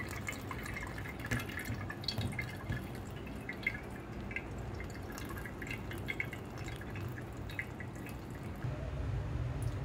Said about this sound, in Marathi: याच्यातलं जे एक्स्ट्रा पाणी आहे ते पूर्ण निघून जाईल।